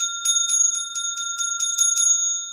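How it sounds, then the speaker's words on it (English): A hand bell rings rapidly and close, about nine bright metallic strikes in quick even succession, each leaving a sustained shimmering ring with no other sound. "Let me just ring my bell because I really don't like that feeling."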